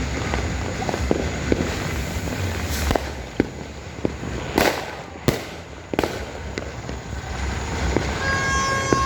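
New Year fireworks burst nearby in a street celebration, a series of sharp, loud cracks and booms spaced irregularly over a constant rumbling background of crowd and traffic noise.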